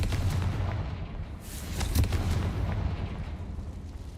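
A fire spell blast in the video game Hogwarts Legacy booms out, a heavy rumbling explosion with a sharp burst near the middle, sitting over continuous low game noise.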